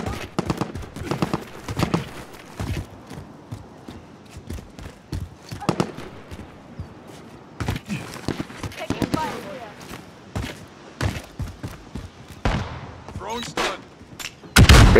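Sharp bursts of gunfire ring out in a Call of Duty Warzone match, in uneven clusters of shots between close voices calling to teammates.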